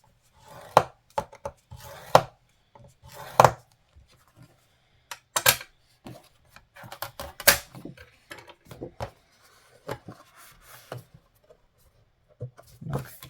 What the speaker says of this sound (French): avec la table de rainurage, donc on marque un pli avant,